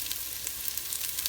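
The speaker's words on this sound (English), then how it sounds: "Cook your spices up well." Curry powder and coriander powder frying over low heat in a pan, a steady soft sizzle with faint crackles and occasional light stirring scrapes, close and fairly quiet, no voices.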